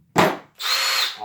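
Milwaukee M18 brushless drill gives a short loud whirring burst, pauses briefly, then spins up again into a steady high-pitched whine with audible fan noise, close and alone.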